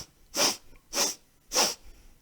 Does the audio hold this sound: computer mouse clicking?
no